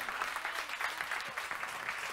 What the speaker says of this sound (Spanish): Dele el aplauso al Señor.